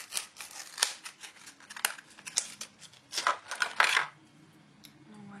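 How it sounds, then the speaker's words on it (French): Crinkling and rustling of packaging as an E.L.F eyeshadow duo in the shade Olive is unpacked, with a string of short, close crackly bursts that fade into quiet near the end. "Voilà, et je vais la déballer."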